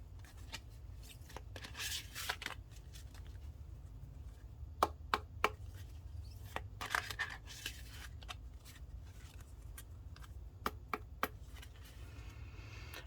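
A tarot card deck being shuffled by hand, with quick papery riffles and crisp snapping clicks of cards scattered irregularly over about thirteen seconds, close and fairly quiet, no talking.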